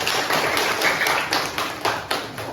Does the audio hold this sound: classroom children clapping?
yes